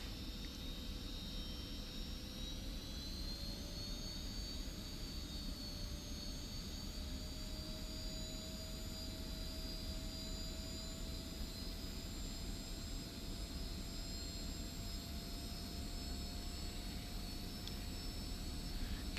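F-86F Sabre jet engine in the DCS flight simulator throttling up slowly during taxi, a constant loud roaring whine with rising high-pitched turbine tones that hold steady throughout.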